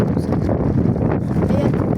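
Constant low buffeting rumble of wind hitting a microphone, steady and loud throughout with no pauses.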